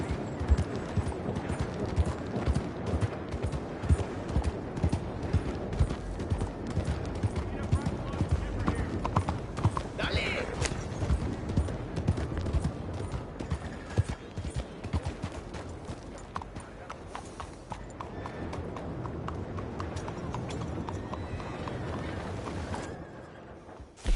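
Horse hooves clop steadily in a continuous walking rhythm on a hard surface in the video game Red Dead Redemption 2, with a busy, textured background and voices talking at times.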